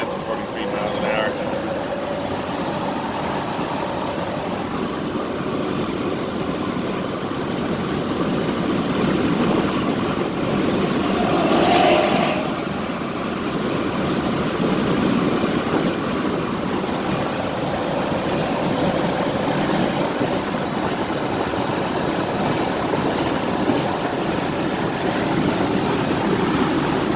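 An electric one-ton truck cruises at about 43 miles an hour, a steady, close, whirring drone with broadband road and wind rumble that holds level throughout, under no clear talk.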